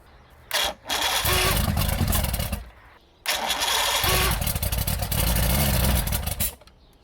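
Speedboat engine, treated with carb cleaner, cranking and catching in two long loud roaring attempts separated by a brief pause, close by with no talk.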